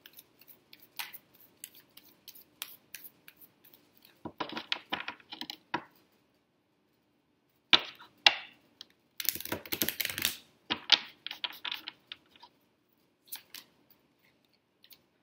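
Quick crisp riffling and slapping of tarot cards in short bursts, with pauses between shuffles, close and fairly quiet.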